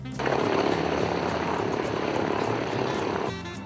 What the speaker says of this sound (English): a myriad of smaller, more maneuverable fighter planes, like this P-51D Mustang